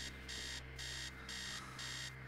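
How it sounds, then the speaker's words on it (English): An alarm clock blares in a repeating on-off pattern, steady loud bursts of buzzing tone over a low hum, inside a dark, neglected house in the horror game Stories Untold. "the sound of an alarm clock blaring someone else in the house"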